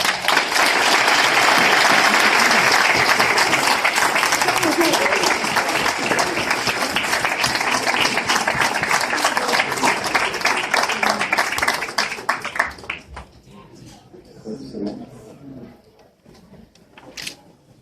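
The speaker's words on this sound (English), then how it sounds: "Another round of applause" Loud sustained applause from an audience at an award ceremony, dense clapping that carries on for about twelve seconds before dropping off abruptly to faint room noise and scattered last claps.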